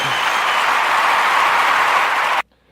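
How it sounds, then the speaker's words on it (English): Dense, continuous applause from many hands, loud and steady for over two seconds before cutting off abruptly into near silence. "That's me giving you guys an applause"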